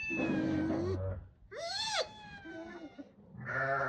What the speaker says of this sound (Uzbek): Mushuk.